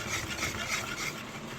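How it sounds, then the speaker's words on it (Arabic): A spoon stirring béchamel sauce in a pot, a soft continuous rhythmic scraping and swishing with no talk. "نقلب كده كويس"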